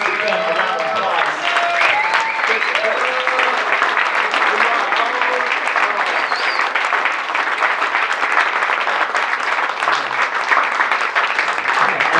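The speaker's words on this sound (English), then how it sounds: "Everybody, please give them a round of applause." Sustained audience applause at a chapter retreat presentation, dense steady clapping throughout with some crowd noise and a few voices mixed in.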